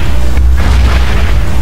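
Bomb explosion thrown by a boss in Crash Bandicoot Twinsanity, a single loud, heavy boom with a deep rumbling body that fills the brief moment and cuts off abruptly.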